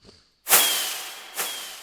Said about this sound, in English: It's a firework.